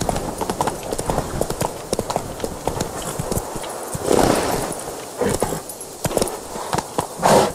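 A horse's hooves trot in The Witcher 3 video game, a quick, close, rhythmic clip-clop that runs throughout, with brief bursts of other in-game noise.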